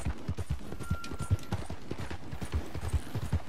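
Horse hooves clip-clop in Red Dead Redemption 2 while riding, a quick, steady rhythm of close, distinct footfalls that runs throughout, with a faint tonal sound briefly above them.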